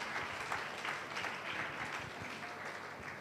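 Faint, distant congregational hand clapping during a Sunday morning church service, a steady wash of many hands heard at low level throughout.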